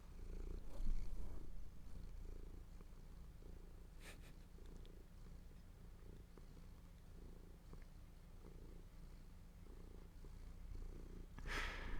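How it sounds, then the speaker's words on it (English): A soft, steady purr from a cat held close, low rumbling pulses repeating evenly, with a brief rustle near the end. "You can hear him purring."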